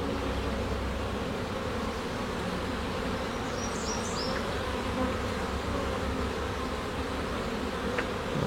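A honeybee colony hums steadily and close during a hive frame inspection, a dense continuous buzz with a few individual bees droning past near the microphone, no voices.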